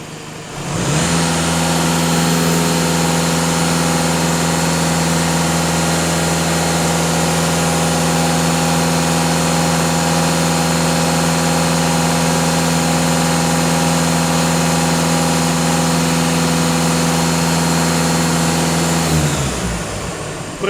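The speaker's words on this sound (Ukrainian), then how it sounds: "даю газ в пол 2500 обертів" VW Golf 2.0 TDI EA288 diesel engine held at about 2500 rpm, a loud, steady droning hum that rises at the start and drops away at the end.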